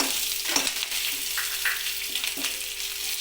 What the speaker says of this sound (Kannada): ನಂತರ ಹಸಿಮೆಣಸಿನ್ಕಾಯಿ ಹಾಕ್ಕೊತಾ ಇದ್ದೀನಿ.